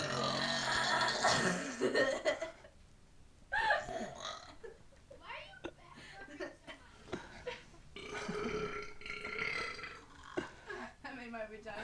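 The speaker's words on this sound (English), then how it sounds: "if you stick your tongue out when you're burping, it doesn't work as well" Loud, drawn-out burps from a woman, several in a row with laughter and chatter around them, close to the mic.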